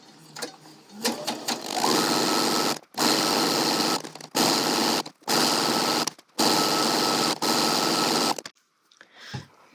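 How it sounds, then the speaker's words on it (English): A sewing machine stitching around a folded dress hem in several loud, steady bursts of rapid whirring, separated by short pauses. "we're going to sew about 1/4 of an inch away from the edge here"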